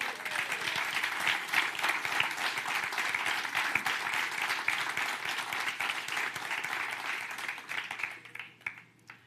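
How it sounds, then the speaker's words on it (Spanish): Loud, steady applause from a church congregation during a sermon at a Bible institute, sustained for several seconds before thinning out into scattered claps near the end. "dale un aplauso fuerte a Jesús"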